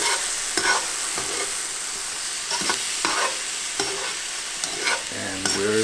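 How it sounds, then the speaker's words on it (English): Brussels sprouts with thyme and pine nuts sizzle in a hot pan while a utensil stirs them in repeated scraping strokes about every half second over a constant frying hiss. "give everything a final stir"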